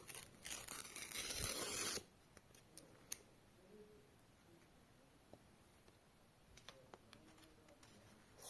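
A burst of crinkly paper tearing for about two seconds, then quiet rustles and a few soft clicks of handling.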